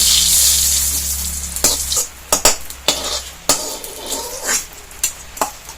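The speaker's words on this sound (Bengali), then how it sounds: "করলা ভাজা হয়ে গেছে, এবার তুলে নেব।" Bitter gourd (karela) pieces frying in hot oil give a steady, loud sizzle for about two seconds, then a run of sharp clinks and scrapes as a utensil turns and lifts them out while softer crackling continues.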